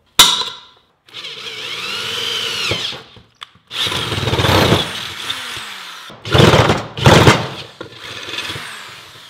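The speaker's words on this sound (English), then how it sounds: "we're going to drill a hole in the transmission crossmember right in the center there for this bolt to go" A power drill boring a hole through the center of a car's transmission crossmember for a mount bolt, running in several loud bursts with brief stops between them, no talk.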